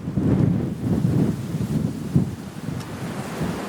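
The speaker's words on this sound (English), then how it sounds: "so windy, it's about ready to take my camera over." Strong wind buffets the camera microphone in rolling low gusts, swelling and easing in waves, with no talking.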